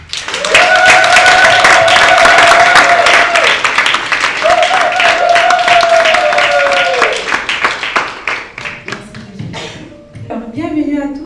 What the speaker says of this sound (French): J'aimerais que vous applaudissiez fortement